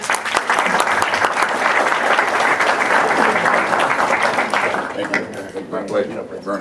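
Audience applause greets an arriving guest, a dense, steady wash of clapping that stays loud through most of the stretch before thinning near the end.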